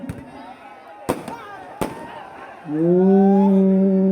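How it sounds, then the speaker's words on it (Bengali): Fireworks go off over a football match in two or three sharp, crackling pops, followed by a loud, sustained, voice-like tone. "আকাশে একটা আতশবাজি ঝলকানি দেখতে পাচ্ছি"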